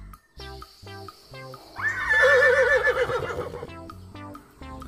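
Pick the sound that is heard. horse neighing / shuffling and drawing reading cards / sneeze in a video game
horse neighing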